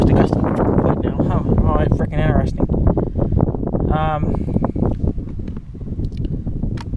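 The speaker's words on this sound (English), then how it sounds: "Sorry for the freaking wind." Wind rumbles and thumps against the microphone while someone talks over it, the buffeting easing slightly toward the end.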